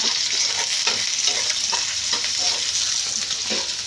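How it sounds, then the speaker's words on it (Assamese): A constant, loud hiss of okra, potato and bitter gourd frying, with soft rhythmic scraping as they are stirred around the pan. "এইফালে বায়ে বনাই আছে ভাজি বনাব লৈছে"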